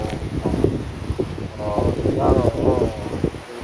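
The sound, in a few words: strong wind blowing through trees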